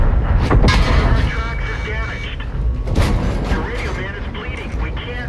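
Tank cannon rounds fired in a tank combat video game, with a Tiger I nearby: heavy booming shots and rumbling blasts repeating over several seconds, loud and close, mixed with game noise while players talk over them.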